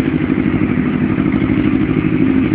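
A Yamaha 750 motorcycle engine, recently worked on for a carburetor fault, runs steadily nearby with an even, loud throbbing idle and rattling clatter, with no talking.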